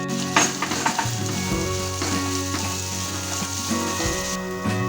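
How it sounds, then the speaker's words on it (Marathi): Onion sautéing in a hot pan for paneer momo filling, a strong continuous sizzle close by, broken by several stirring scrapes. "कांदा घालूया आणि कांदा चांगला लाल होईपर्यंत परतूया"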